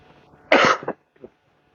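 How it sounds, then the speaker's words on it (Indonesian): A single harsh, loud cough bursts out close by, followed by a shorter, fainter second cough, then quiet. "Batuk."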